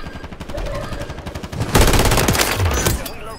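Holger 26 machine gun in Call of Duty Warzone firing in a rapid sustained burst of close, loud shots, with a player's voice audible.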